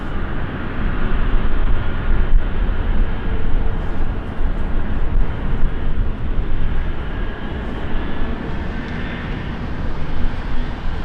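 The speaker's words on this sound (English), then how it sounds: "the next one up for takeoff will be, I think, the Kuwait" A Kuwait Airways A320neo takes off from runway 18 Left at Schiphol in fog, a steady, loud broadband jet roar that holds for the whole stretch with no voices.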